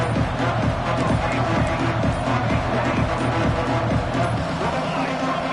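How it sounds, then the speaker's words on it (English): Roaring stadium crowd at a Stanford vs Notre Dame college football game, a dense, loud, sustained wall of cheering and noise with no break throughout. "With this place rocking, the crowd forces a false start."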